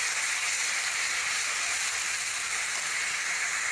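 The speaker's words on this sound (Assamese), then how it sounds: "আৰু এইখিনি ভালকৈ ভাজি লওঁ।" Onion, ginger and garlic paste frying in ghee and oil, an even, loud hissing sizzle held steady from start to finish, close and unaccompanied by voices.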